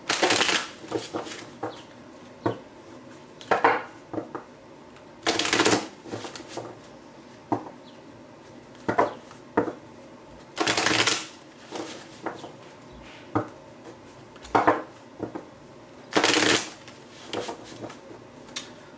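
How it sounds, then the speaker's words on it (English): Repeated bursts of crisp card shuffling, each riffle lasting about a second, with quieter handling and tapping between them; no talking. "I'm being told to stop shuffling, so I'm going to go ahead and cut your cards."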